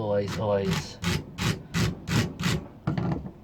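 A file scrapes back and forth across a wire to expose copper, giving six rhythmic rasping strokes at close range after a brief stretch of talk.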